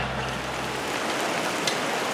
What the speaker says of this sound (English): we got caught in a little bit of downpour